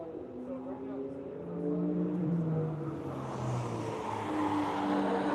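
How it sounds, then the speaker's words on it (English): A Honda NSX race car lapping the Watkins Glen circuit drones past, its engine note climbing and swelling as it accelerates, moderately distant under a commentator's talk. "Starting his 3rd lap. Really using that Watkins Glen line is Chad in the NSX."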